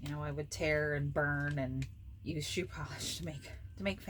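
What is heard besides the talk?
No distinct noise like a dog, phone or traffic.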